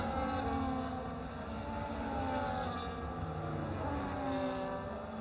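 Race car engine in a sim racing game at Spa, a steady, loud, continuous drone with pitch that rises and falls as the car accelerates and shifts, heard alone throughout.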